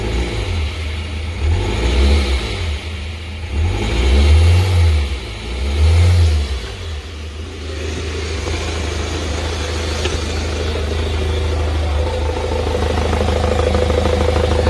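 A scrapped BMW 520d F10 N47D20C diesel idles roughly close by with its intercooler pipe removed, giving several uneven surging revs in the first seven seconds before settling into a steady, lumpy rumble.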